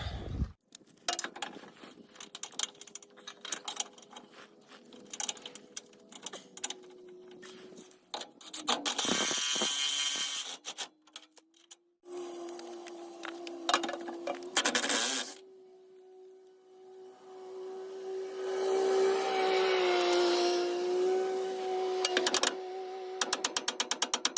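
Ratchet working on idler arm bolts of a Duramax truck, with rapid clicking pawl bursts, grinding metal turning and squealing bolt rotation in close, uneven stretches of varying length.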